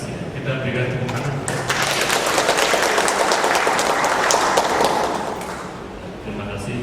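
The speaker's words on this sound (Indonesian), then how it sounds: "Kita berikan tepuk tangan." An audience at a Bible class breaks into applause, a dense burst of clapping swelling for several seconds and then fading, with voices around it.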